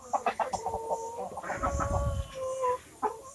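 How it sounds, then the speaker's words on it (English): Chickens cluck close by in a quick, uneven series of short calls that thicken into a busy cackle around the middle, outdoors near a chicken net, with no talking during the calls. "Quiet chicken."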